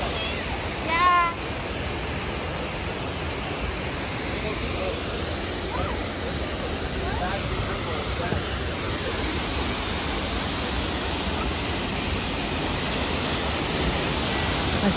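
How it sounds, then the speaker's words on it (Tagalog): A waterfall rushes on a hike at Whistler, Canada, a steady, full hiss of falling water that runs the whole time, with faint voices now and then underneath. "Lakas talaga yung lagaslas ng tubig."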